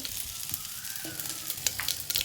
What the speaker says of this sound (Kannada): ಎಣ್ಣೆ ಕಾದೈತ್ರಿ ಸ್ವಲ್ಪ ಸಾಸಿವೆ ಹಾಕತ್ತೀನಿ ನೋಡಿರಿ ಸಾಸಿವೆ ಚಟಪಟ ಸಿಡಿಬೇಕ್ರಿ